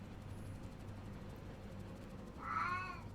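A cat meows near the end, a short rising call over steady low electronic background hum from a video game session with no talking.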